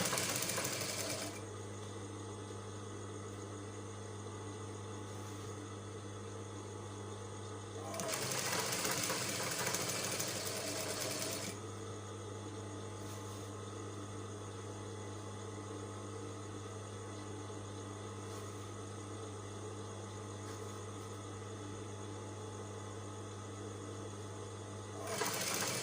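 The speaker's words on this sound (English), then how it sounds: "Make sure the edges are aligning, okay? And you stitch." A sewing machine stitches a shirt collar in a long, steady, close hum with no talking, briefly rising into a harsher, noisier run partway through before settling back to an even drone.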